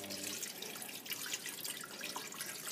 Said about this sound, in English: I'm going to pour some warm water